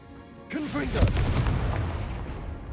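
Casting the Confringo spell in Hogwarts Legacy, a fiery explosion bursting out after a brief spoken incantation, followed by a sustained crackling, rumbling roar.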